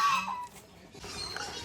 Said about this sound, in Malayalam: നല്ലൊരു ഇതാ ഇവിടെ. Flying duck.